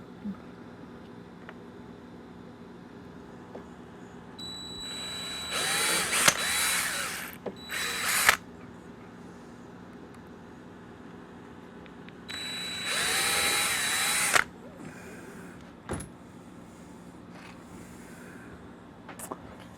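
A small power drill bores holes in the gear door of a large-scale model plane, two loud bursts of several seconds each, with quieter clicks and handling noises in between.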